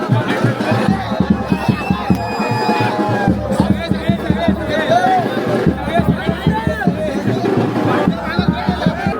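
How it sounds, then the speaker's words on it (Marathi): Large, dense crowd at the Ekvira palanquin procession, a busy hubbub of many voices, shouts and movement close by, with people talking throughout. "गर्दी भरपूर आहे"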